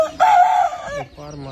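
A loud Aseel rooster, three to four years old, crows once, a long strained call close by, followed by a softer trailing cluck.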